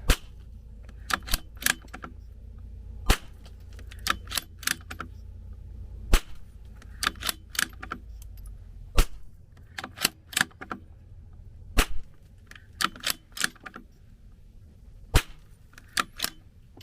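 Lapua Long Range .22LR rifle shots ring out one at a time at uneven intervals, ten or so sharp loud cracks over a steady background, each followed by fainter mechanical clicks.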